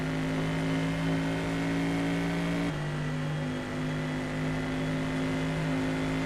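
A race car engine in the Assetto Corsa Competizione racing sim drones loudly and steadily the whole way through, holding a strong constant pitch that dips slightly partway before settling again, with no voices.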